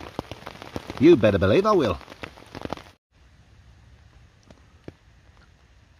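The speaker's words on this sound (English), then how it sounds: "the rain has just eased off a little bit. It's just drizzling at the minute." Light drizzle patters steadily and faintly outdoors during stealth camping near HMP Frankland prison in County Durham, heard after someone talks over the first half.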